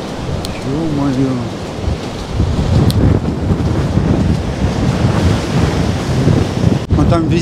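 Heavy surf from a violent storm at Anapa on the Black Sea roars continuously with strong wind buffeting the microphone, loud and close, with a faint voice briefly heard early on.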